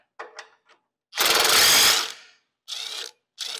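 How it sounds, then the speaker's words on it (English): An 18 mm socket on a breaker bar works a nut on the rear winch of a Polaris RZR: a few short metallic clicks, then a longer gritty grinding burst and two more brief rasps, close and isolated. "I should be able to put my 18mm socket and my breaker bar"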